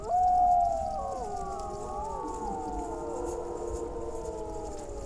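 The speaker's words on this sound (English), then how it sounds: "This haunting music encourages wolves to howl." Wolves howl at night, several long overlapping wavering cries rising together and sustaining, loud at first and then holding steady without any talk.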